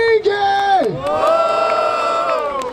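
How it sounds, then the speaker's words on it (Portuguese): Crowd at a Brazilian freestyle rap battle semifinal in Barueri, São Paulo, cheering and shouting loudly and continuously, with whoops and cries rising over a sustained roar. "Barulho para as rimas do Afro King"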